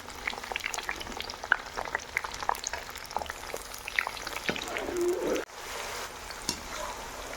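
Chopped capsicum frying in hot oil for a mixed vegetable dish crackles and sizzles steadily with small pops and occasional stirring clinks, close up, with no talking.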